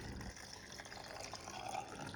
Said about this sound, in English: I'm just adding more water to the jars, filling them to the top, covering the tomatoes